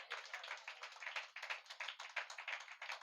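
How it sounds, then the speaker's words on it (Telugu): A church congregation claps in unison, a steady rhythmic run of sharp, fairly quick claps repeating evenly and alone, with no voices over them. "అందరూ గట్టిగా చప్పట్లు కొట్టండి"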